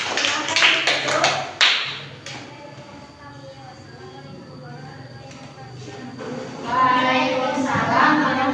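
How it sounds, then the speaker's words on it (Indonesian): A classroom of students claps for the flower group, a burst of dense applause at the start fading out after about two seconds, followed by children talking and murmuring in the room. "tepuk tangan untuk kelompok bunga"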